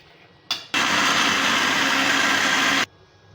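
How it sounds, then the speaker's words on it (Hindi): A blender grinds raw chicken for nuggets: a short burst, a brief pause, then a loud steady whir of about two seconds that cuts off abruptly, with no talking. "ये ग्राइंड कर लिया इसको, चिकन को।"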